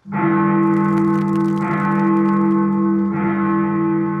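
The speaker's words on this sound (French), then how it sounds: "C'est le son de la grande cloche qui sonne afin de signaler l'heure." A large clock tower bell in London, in a cartoon, strikes the hour three times at an even pace, each deep, resonant clang ringing out and sustaining loudly into the next.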